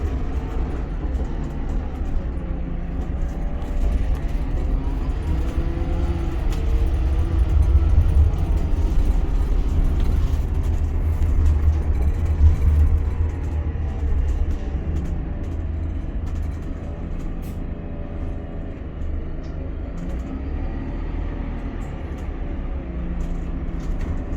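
Diesel engine of a Volvo B8 RLE bus running in Scotland, a steady low rumble heard from on board that swells slightly midway while the bus moves, with no talk.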